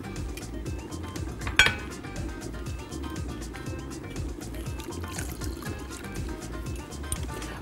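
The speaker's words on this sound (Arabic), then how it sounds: "وهخلط التتبيله دي كويس" Shrimp marinade with lemon, salt and pepper being stirred in a bowl for Italian-style grilled shrimp, giving a steady wet sloshing with light clinks of utensil against the dish and one sharper knock near the start.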